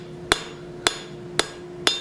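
A blacksmith's hammer strikes hot 3/8 steel on the anvil while drawing out a taper. Four sharp, ringing blows land at a steady, unhurried pace, close and loud, with no talk.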